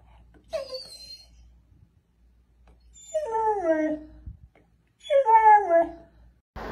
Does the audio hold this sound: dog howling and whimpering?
yes